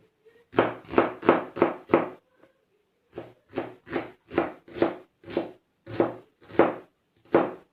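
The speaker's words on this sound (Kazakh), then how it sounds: "Енді пиязды да көбіктеп тураймыз." A knife finely chops onion on a board in crisp, close strikes: a rapid run of five chops, a short pause, then a steady series of evenly spaced cuts.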